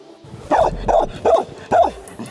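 A border guard service dog barks four times in an even rhythm, each bark sharp and close, with a slight whimpering edge and no talking around it.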